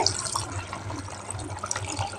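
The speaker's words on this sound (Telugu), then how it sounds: "ముక్కు ఉడికేంత వరకు కొన్ని వాటర్ అయితే పోసుకోవాలండి" Water pours steadily into a pot of chicken curry, a continuous splashing trickle, close and moderately loud.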